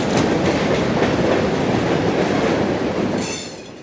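Freight train 0721 rolls south toward Crone Quarry in South Florida, a loud, close, continuous rumble and rattle of wagons that begins to fade near the end.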